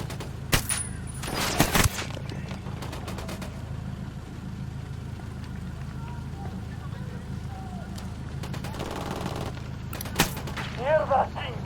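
Gunfire from a firefight against soldiers in Ghost Recon Wildlands, with scattered loud bursts early and late over a steady engine-like rumble, and voices shouting in between.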